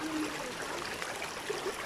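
Cold mountain stream water flows steadily at Ein Gedi, a continuous soft rushing trickle heard from close by with no talk over it.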